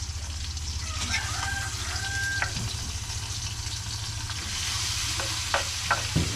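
Meat frying in a pan for bihon noodles, a steady broad sizzle with occasional stirring scrapes, while a rooster crows faintly in the background.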